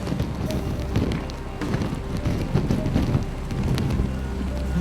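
Steady rain falls on surfaces around a marathon finish area being set up in cold weather, a dense, continuous patter mixed with wind noise and scattered knocks.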